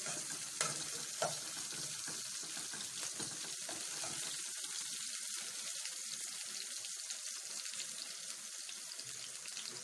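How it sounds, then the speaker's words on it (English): Onions fry in a pan with a continuous bright sizzle and scattered pops and crackles, steady and close for the whole stretch. "I love to get the onions fried till some good smell comes from them"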